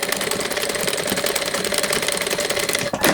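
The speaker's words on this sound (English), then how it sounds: "I will continue sewing from this base stitch line to 3 millimeters, same way we did from the other side" A sewing machine stitches a seam on a linen summer dress, a steady, close mechanical whirring and rapid needle patter that runs nearly unbroken before a brief pause and restart at the end.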